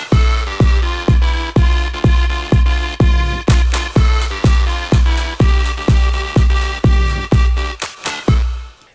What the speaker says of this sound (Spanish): Vamos a calentar un poco el sonido con la máxima calidad que hay en el plugin de Saturn 2.